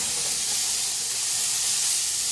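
Potatoes and tomato in a pan give off a steady, bright frying sizzle, a constant hiss at even loudness with no talking.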